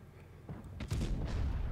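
A heavy cannon shot from a WZ-111-1G FT tank destroyer in World of Tanks Blitz, a single deep boom with a low rumbling tail, fairly close and loud over faint background.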